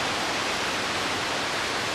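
Heavy rain pours steadily during a thunderstorm, a dense, even hiss with no gaps or distinct drops, close and constant throughout; no thunder or voices stand out.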